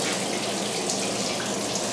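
Water pours steadily down a waterfall urinal in a Shell gas station restroom on Cima Road, California, a continuous close splashing rush with no break.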